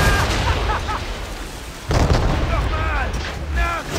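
Ship cannons fire during a naval battle in Assassin's Creed III, with a heavy boom about halfway through set among crew shouts and battle noise, while someone speaks over it.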